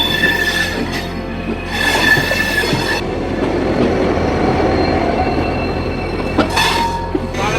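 The Saraighat Express between Guwahati and Howrah runs on the rails with a loud, close rumble of wheels and carriages, rhythmic clatter throughout and several bursts of metallic wheel squeal.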